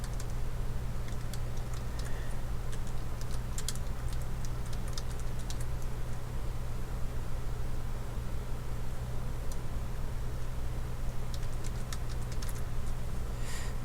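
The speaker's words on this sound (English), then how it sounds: "I'm gonna type a death note real quick." Fingers typing on a computer keyboard: a fast, uneven patter of light key clicks in short flurries, faint and close over a steady background hiss, with no talking.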